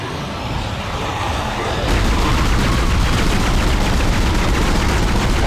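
Rapid, loud, continuous gunfire in the Dead Space video game, growing denser after a moment into a sustained barrage, with a voice speaking.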